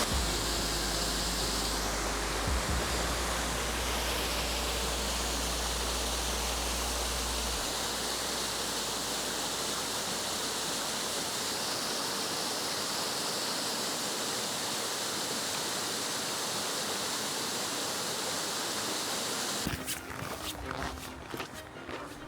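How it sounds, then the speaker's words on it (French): Waterfall on a freezing winter hike, a constant broad hiss of falling water filling the whole stretch, with a low rumble early on and some scuffing near the end. "Reposé par l'énergie apaisante de la cascade"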